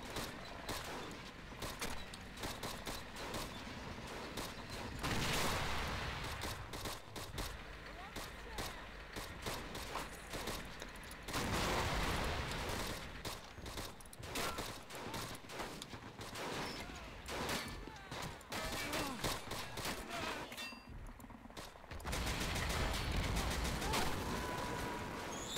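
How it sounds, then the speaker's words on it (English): Sustained gunfire and artillery from a WWII strategy game set in the 1946 invasion of Japan, dense volleys of shots and blasts rolling continuously, loud and near, with brief lulls between bursts. "Those 96 guns are taking my guys out."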